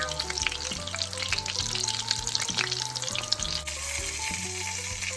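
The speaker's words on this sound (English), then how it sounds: "Fry the chicken cutlets until they are golden brown." Chicken cutlets for chicken francese sizzle and crackle steadily in hot oil in a pan until golden brown, a close, continuous frying hiss with soft background music.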